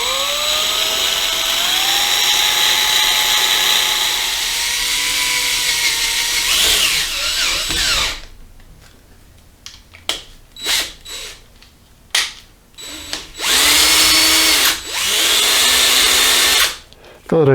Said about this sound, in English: Now that I've drilled the holes,